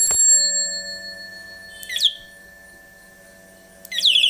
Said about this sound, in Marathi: बेल पण वाजवू शकतो आपण